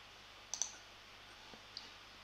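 Several faint, sharp computer mouse clicks, two close together and then two more spaced out, heard alone against quiet background hiss.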